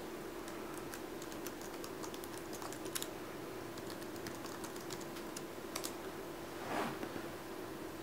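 Password typed on a computer keyboard, a run of quick light key clicks in an irregular rhythm, close and fairly soft, with a brief louder rustle near the end.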